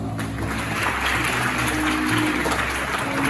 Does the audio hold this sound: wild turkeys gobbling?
no